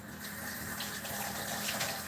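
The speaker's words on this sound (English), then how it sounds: "Let me rinse out my spoon." Kitchen tap water running steadily while a spoon is rinsed at breakfast, a continuous close splashing gush without speech.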